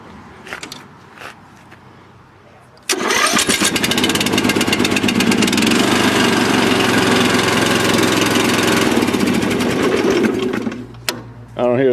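A tractor engine cranks and catches after a few seconds of quiet handling noise, then runs loud and steady with a rapid mechanical clatter close by before it cuts off near the end.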